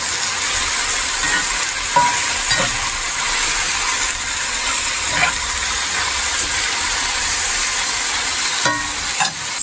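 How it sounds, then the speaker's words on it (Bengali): Mushrooms fry in a hot pan, giving a steady sizzling hiss broken by intermittent scraping taps as they are stirred. No one speaks. "আর একটু ভাজা দিব।"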